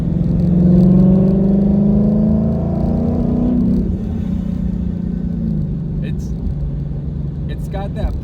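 A naturally aspirated Lexus RC F runs on a hot Arizona day. Its engine drones loudly with a rising pitch, then eases to a steady lower rumble. A voice speaks over it, and a few faint clicks and chirps come near the end.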